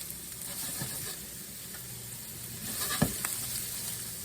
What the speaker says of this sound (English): I'm gonna go ahead and add these onions, about a half an onion. Fry those up a little bit.